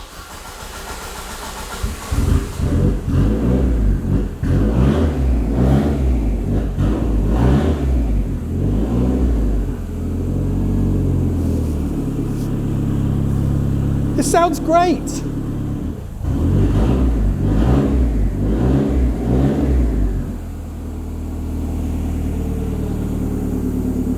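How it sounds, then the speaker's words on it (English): A Ford Sierra RS Cosworth Sapphire with a freshly rebuilt YB engine cranks, catches and revs in repeated loud bursts between idle spells, with a short high whine midway and people talking close by throughout. "A running Sierra Cosworth."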